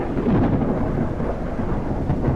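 Thunder rolls and rumbles through a steady downpour in the video game Detective: Rainy Night, a dense, continuous storm wash that stays loud and close for the whole stretch, with no voices.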